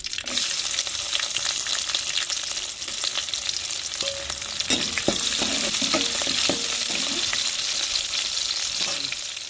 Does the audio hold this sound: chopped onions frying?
yes